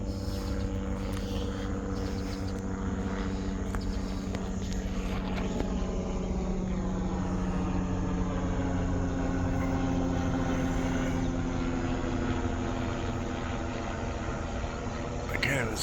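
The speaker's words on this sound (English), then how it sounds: "it sounds like a chopper" A helicopter flying directly overhead on Long Island: a steady rotor drone with a low throbbing hum fills the clip, continuous and fairly close, with some voices talking over it.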